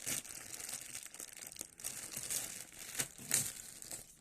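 The packaging of an Oldu Bil card ordered from Hepsiburada is opened by hand, with close, irregular crinkling and rustling of plastic and paper, plus a few sharper tearing bursts.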